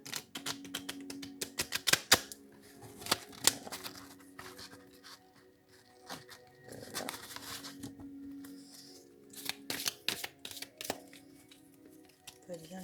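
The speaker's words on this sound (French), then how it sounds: "Bien les brasser" Tarot cards being shuffled by hand, a fairly new deck that is stiff to mix, giving bursts of crisp riffling and flicking that come and go alongside a quiet voice.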